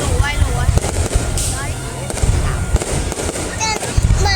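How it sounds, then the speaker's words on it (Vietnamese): New Year fireworks explode in a dense run of loud, close bangs and crackles with whistling rockets rising between them, and people talk over the noise. "Nhà nước không cho bật pháo hoa."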